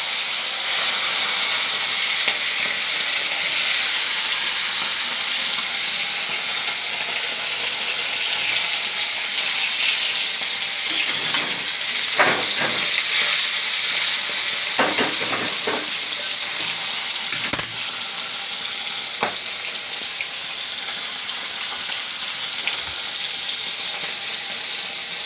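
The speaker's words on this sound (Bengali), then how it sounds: "মাছটা ভেজে নিলাম।" Fish frying in hot oil, a steady loud sizzle and hiss lasting throughout, with a few brief stirring or turning sounds partway through and no talking.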